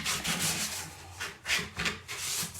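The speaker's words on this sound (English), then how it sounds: "you want to scuff sand the rest of this because you're painting it" Sandpaper scuff-sanding a thrifted wooden stool ahead of painting, a close, continuous raspy rubbing in uneven back-and-forth strokes with brief surges, no talk.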